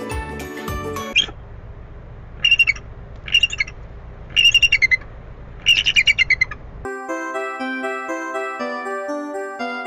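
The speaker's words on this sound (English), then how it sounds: "Eagle. This is an eagle." An eagle gives four bursts of shrill, high-pitched chattering calls, each a quick run of sharp notes with short pauses between, set between stretches of music.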